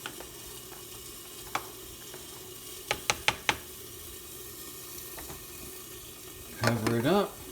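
Egg noodles in boiling broth, with a few sharp clinks of a utensil against the pot, soft bubbling underneath, and a louder burst of stirring and scraping near the end.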